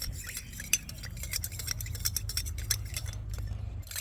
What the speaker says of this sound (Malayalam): ഇത് അലിയുന്ന വരെ നമ്മൾ കലക്കണം.